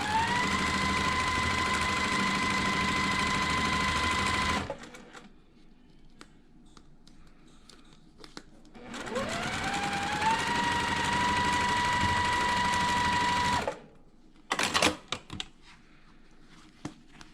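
Sewing machine running a quarter-inch seam to join quilt pieces, two long steady whirring bursts separated by a pause, followed by brief clicks and taps.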